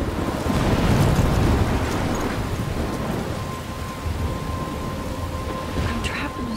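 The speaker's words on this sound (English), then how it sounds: "I'm trapped in a storm?" Thunderstorm in the Life Is Strange video game, a heavy continuous roar of rain and rumbling thunder with a loud swell early on, faint speech mixed in.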